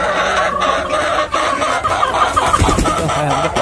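Free-range native chickens cluck steadily close by, with irregular clucks and soft calls layered over a busy farmyard background.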